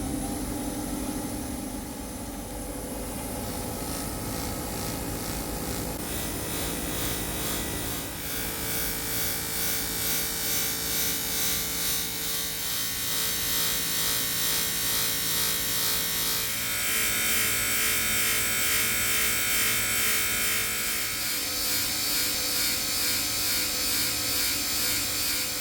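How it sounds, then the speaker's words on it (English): Tool post grinder fitted with an 80 grit flapper wheel, spinning at 1400 RPM, linishing a damaged cylinder rod turning on a lathe: a loud, sustained, close high whine and abrasive buzz with a gently pulsing, uneven rhythm throughout. "We're also using an 80 grit flapper wheel and running the tool post grinder at 1400 RPM."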